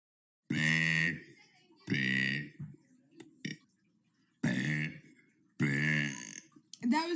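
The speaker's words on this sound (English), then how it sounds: "That was day 41 of burping for 100 days." Four loud, resonant burps come one after another in separate bursts, with faint throaty sounds in the pauses between them.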